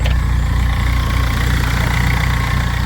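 A diesel engine idles steadily after air locks were cleared from its fuel system, a loud close rumbling throb with an even low pulse and no voices.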